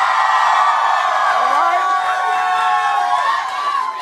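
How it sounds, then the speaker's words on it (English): Outside, a large crowd of fans cheers and screams at a Lady Gaga appearance, with many high voices blending into a loud, sustained wall of shouting. "I can't get over this crowd outside."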